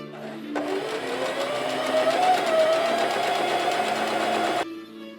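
A sewing machine hemming fabric for a historically accurate chemise à la reine runs in one steady, continuous whir for about four seconds, starting and stopping abruptly, close and clear with no talking.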